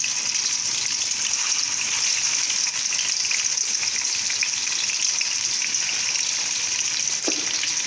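Fish frying in cooking oil in a kadai, a loud, steady close-up sizzle with a bright hiss that runs unbroken for the whole stretch.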